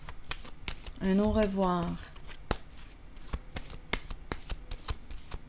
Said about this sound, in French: Je vais déposer maintenant une carte ici.